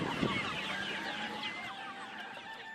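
Hens at an egg-laying poultry farm cluck softly and steadily, several birds overlapping in a continuous low chatter with no voices.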